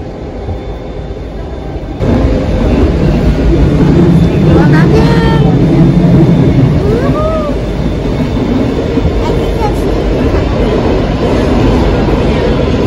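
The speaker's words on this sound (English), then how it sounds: "We're on the subway again, and this is one part where it's not underground" A Washington DC subway train crossing a river bridge rumbles steadily with a rhythmic rattle of wheels and a brief squeal, heard from inside a carriage after a quieter start.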